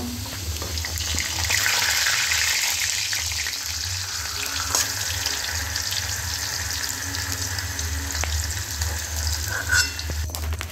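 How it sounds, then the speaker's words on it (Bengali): Potatoes fry in hot oil under a lid, a dense, steady sizzle that swells early and holds throughout, with a few light clicks of a spoon. "দেখুন আমার এই আলুগুলোও ভাজা হয়ে গেছে"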